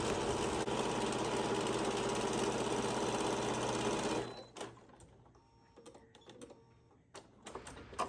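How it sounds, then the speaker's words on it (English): A sewing machine runs steadily for about four seconds during free motion quilting of a fabric panel, then stops, leaving faint handling clicks and rustles. "when you need to stop and reposition your hands with free motion quilting, I like it better to end with the needle down"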